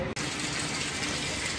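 Water gushes steadily as it is poured from a bucket into an air cooler, a loud continuous splashing rush that starts abruptly after a brief gap.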